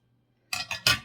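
Craft material for a gnome being cut in half: after a silent start, three crisp, close snipping bursts in quick succession, the last one the loudest.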